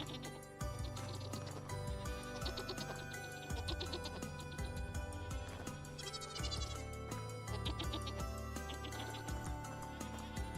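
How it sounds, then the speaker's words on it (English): Goats bleat repeatedly in the survival game Vintage Story, short wavering calls rising over a steady musical background at low volume. "We need these goatesses to grow up."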